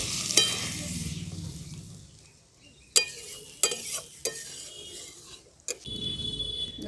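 Water poured into a hot pan of raw green peas, with a broad hiss and sizzle at first, then scattered clinks and scrapes of stirring, and the steady bubbling sizzle building again near the end.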